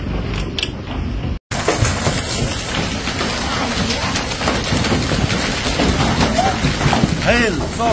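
Dense, steady roar of a severe hailstorm in Mussum, Bocholt district, Germany, with constant rattling impacts after a brief dropout; voices talk over it.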